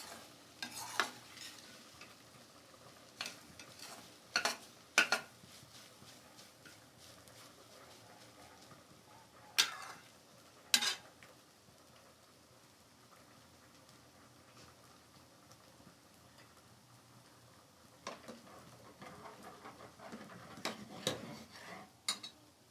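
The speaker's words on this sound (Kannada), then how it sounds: "ಲೋಳೆ ಎಲ್ಲ ಹೋಗೋ ತನಕನೂ ಬಾಡಿಸ್ಕೊಳ್ಳಿ" Okra (bhindi) sautéing in a pan, with a spatula scraping and clinking against the metal in irregular bursts over a faint, steady sizzle; no talking.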